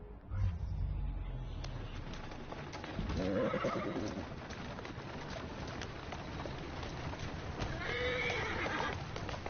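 In the video game Assassin's Creed, a horse whinnies twice amid steady clip-clopping hooves, with birds cooing faintly in the background.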